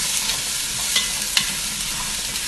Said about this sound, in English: What I'm going to do is just stir these two around.